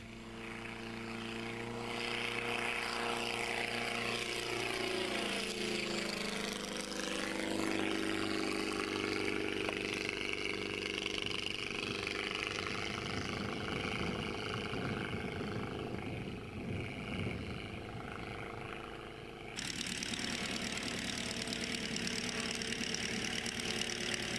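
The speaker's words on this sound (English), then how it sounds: "If it weren't for the throaty engine noise and the somewhat larger than normal size" A small propeller plane, a Ganagobie, drones steadily with a throaty engine, its pitch shifting as it sweeps past low and fairly close, with no voices.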